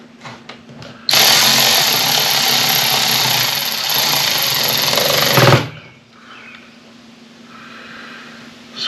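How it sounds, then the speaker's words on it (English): A cordless ratchet runs in one loud, steady burst of about four and a half seconds, whirring and buzzing as it tightens a hose clamp on a Kubota 4690 backhoe cylinder, then stops abruptly, leaving quieter shop noise. "I take my cordless ratchet and"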